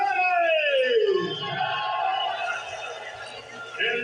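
A sold-out fight-event crowd in Tacloban City roars and yells in a loud sustained swell, with a voice rising over the cheering at the start before the noise settles into a steady crowd din.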